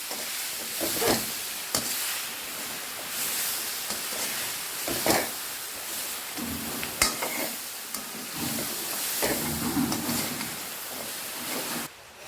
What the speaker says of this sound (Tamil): சேர்த்து நன்றாக கிளறி விடுவோம்